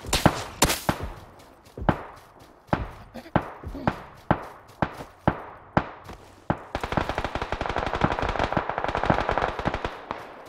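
Gunfire in the video game PUBG: loud single shots spaced out at first, then a rapid sustained burst of automatic fire, close and harsh, with a voice talking faintly at times.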